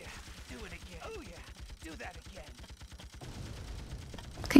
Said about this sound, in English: you are going to get shot by a machine gun